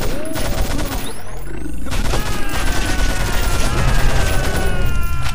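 Rapid gunfire from the Doom game mod Valhalla pounds out as a steady, loud fusillade of shots, mixed with game grunts and other effects.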